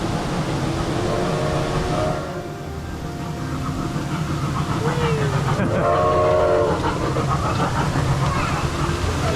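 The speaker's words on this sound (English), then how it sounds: "Got a train." A train passing nearby outdoors, its steady loud rumble carrying on throughout with horn-like tonal blasts near the start and again midway, a brief voice heard over it.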